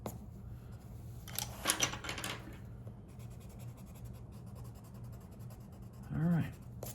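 An eraser scrubs a pencil drawing of Leonardo's shell from Teenage Mutant Ninja Turtles on paper, with a short cluster of close, quick rubbing strokes early on, then quiet scratchy movement.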